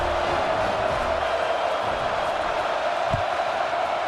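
Stadium crowd noise from the video game EA Sports College Football 26, a steady broad roar of many voices held throughout with no lulls, plus one brief low thump near the end.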